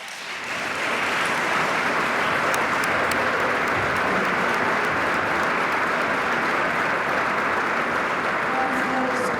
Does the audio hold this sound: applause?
yes